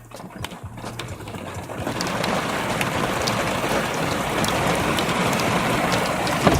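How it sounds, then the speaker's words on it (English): Steady rain hisses down, starting lighter and quickly building into a dense, continuous downpour that stays loud throughout. "this rain is something serious"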